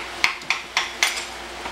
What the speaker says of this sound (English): so we can remove the